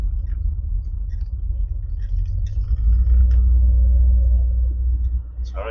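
A Triumph Stag V8 drones as a steady, deep rumble while the car cruises at about 60 mph, recorded close to the engine and heard alone with only light mechanical noise above it.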